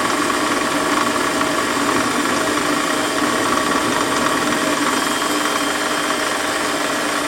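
A Warco metal lathe drilling holes in a shop-made quick-change tool post part gives a loud, steady, unbroken mechanical whir and grind, with no voices.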